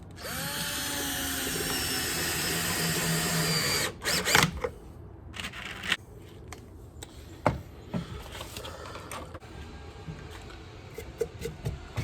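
A power drill whirs steadily for about four seconds backing out screws on a Hoselink hose reel install, then gives way to scattered clicks, rattles and handling knocks of screws and washers.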